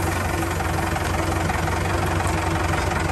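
Tractor engine idling while hitched to a fully loaded trolley, a loud, continuous low diesel rumble with a steady knocking throb and vibration, close by, with no talk.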